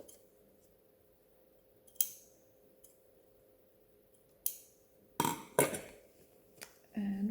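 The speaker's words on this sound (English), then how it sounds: "I'll cut all of my threads." Scissors snipping sewing threads on a fabric scrunchie, a handful of sharp isolated clicks spaced apart over a quiet room hum, growing denser and louder near the end.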